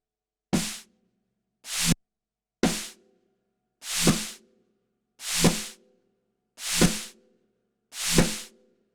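Seven short reverse snare swells, each a quick rising whoosh cut off by a snappy drum hit, played one at a time with brief silences between, close and clear with no voices.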